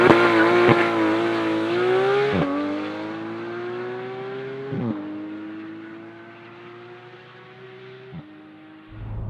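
A Porsche 911 GT3 accelerates hard through several gears, its engine note climbing steadily in pitch and dropping sharply at each upshift, heard close and loud from the cabin with no talking.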